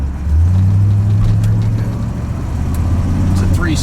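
Corvette with a 3-speed automatic pulls away at quarter throttle, its engine giving a loud, deep, close rumble that holds steady and then swells slightly.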